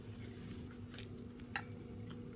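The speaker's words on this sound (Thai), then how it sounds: "จริงถ้าอยากให้มันกรอบๆนะก็ค่อยๆทอดไฟอ่อนๆนะ" Squid frying in oil in a pan over low heat gives a faint, steady sizzle, with a couple of light utensil clinks near the middle.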